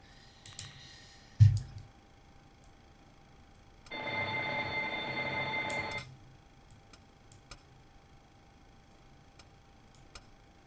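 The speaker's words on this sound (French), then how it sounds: "Les différentes alarmes" A cockpit alarm sounds in a Boeing 737 IXEG in the X-Plane 12 flight simulator, a buzzy tone held for about two seconds amid scattered quiet clicks and a single thump.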